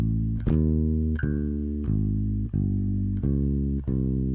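Guitar strums a dark, tense chord progression, with six evenly spaced chord changes ringing into one another, close and steady with no voices.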